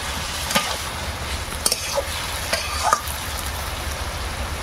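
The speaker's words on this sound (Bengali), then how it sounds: "এবার একটু নেড়ে দিচ্ছি" A village-style Bengali labra mixed vegetable curry bubbles and sizzles steadily in a pan while a spoon stirs it, adding a few soft scrapes and clinks up close, with no voices.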